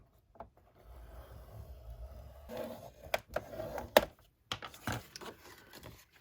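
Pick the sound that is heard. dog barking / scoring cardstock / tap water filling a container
scoring cardstock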